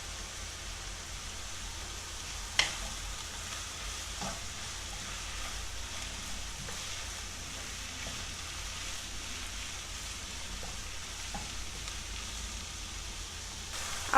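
Vegetables frying in a pan for a potato moussaka, a soft continuous sizzle with occasional sharp clicks of stirring, fairly quiet and steady throughout.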